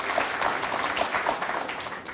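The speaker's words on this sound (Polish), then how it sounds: "proszę, brawa" An audience claps for a participant who has just introduced herself, even, moderately loud applause with no one talking over it.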